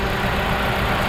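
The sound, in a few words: car engine idling with cylinder 3 misfire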